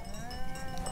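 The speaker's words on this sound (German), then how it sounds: "einschließlich die Schafe haben Durst." Sheep on a mountain pasture near the Matterhorn give a long, wavering bleat over a steady outdoor background, fairly close, with no talking.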